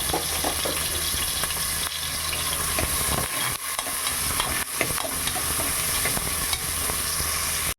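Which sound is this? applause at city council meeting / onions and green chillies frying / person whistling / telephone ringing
onions and green chillies frying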